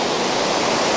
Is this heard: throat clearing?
no